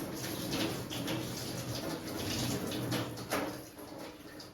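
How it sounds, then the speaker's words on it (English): Tap water runs steadily as a container is rinsed out in a sink, a continuous close splashing wash with slight variations as the flow hits the vessel. "I'll just rinse this out"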